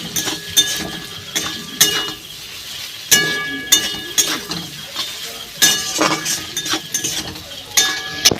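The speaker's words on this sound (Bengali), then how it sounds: "মশলা ভালো করে ভেজে নিয়েছি" Spices sizzle loudly in a hot pan while a metal spoon stirs and clinks against it, cooking a village-style spicy morola fish curry with potatoes; steady frying is punctuated by repeated scraping clinks, up close with no talking.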